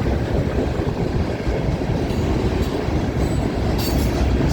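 CN freight train M394 passes close by at Milepost 2 on the Dundas Subdivision, a loud continuous roar of rolling wagons with rattling wheels and faint squeals throughout.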